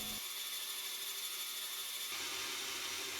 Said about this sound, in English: my bandsaw is really struggling with this micarta